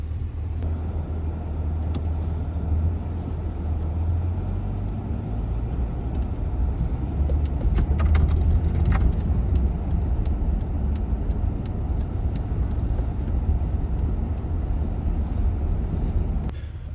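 A car driving in winter, a steady low engine and road rumble heard from inside the cabin with some wind buffeting and occasional faint clicks.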